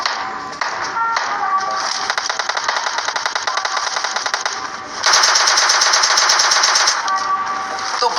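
A DP machine gun in the PUBG Mobile video game fires rapid, sustained automatic bursts close up. The gunfire runs nearly continuously and grows louder and denser for a couple of seconds midway.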